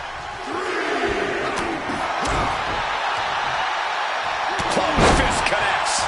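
A wrestling arena crowd in the WWE 2K26 video game gives a steady cheering roar, with slams and thuds breaking through and the noise swelling near the end.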